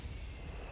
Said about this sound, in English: Mortar is just causing all sorts of havoc with those timed charges.